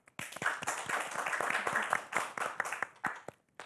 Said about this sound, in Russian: Эти аплодисменты Владиславу